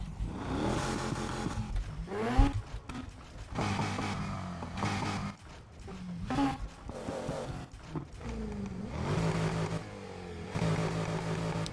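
Car engine in Need for Speed Heat, revved repeatedly in loud, close bursts with rising and falling pitch, separated by short dips between throttle blips.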